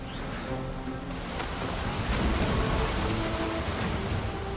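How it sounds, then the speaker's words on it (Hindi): Heavy rain and floodwater roar in Udhampur, Jammu and Kashmir, where the Tawi river is flooding, a loud, dense, unbroken wash of noise with no voices. "जम्मू कश्मीर के उधमपुर में आसमान से बारिश हो रही है"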